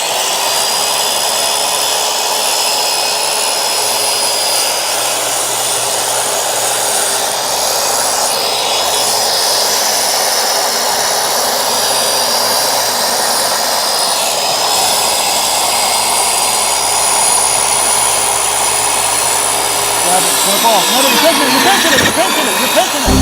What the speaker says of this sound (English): bump our skill saw right up against it and make a quick, so we can make a quick cut